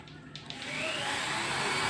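A vacuum cleaner clears up debris left from welding, switching on and rising to a loud, steady, close whoosh that holds to the end with no talking.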